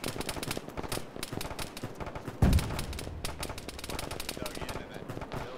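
Dense, loud bursts of automatic and single-shot gunfire from a ShackTac session of the Arma military game, with one heavy close blast midway; a voice murmurs faintly beneath.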